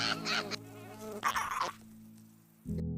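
Flies buzz in short whining bursts around a beetle near an ant nest, a fluttering drone that starts and stops over quiet background hum.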